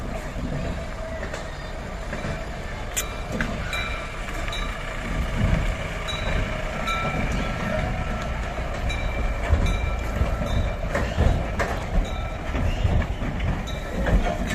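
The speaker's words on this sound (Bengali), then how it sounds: "এখানে টয় ট্রেনেরও ব্যবস্থা আছে, এই যে টয় ট্রেন যাচ্ছে" A toy train runs through a safari park, giving a steady rumbling rail drone with clickety-clack and faint squeal tones heard at moderate distance, continuous throughout with no talk.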